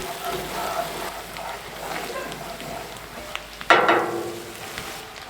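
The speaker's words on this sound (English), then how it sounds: "We're making a traditional roux with butter and some of our leftover seasoned flour" Butter and seasoned flour bubble into a roux in a pan, with a low continuous sizzle, scattered crackles and a brief louder burst of frying near the end.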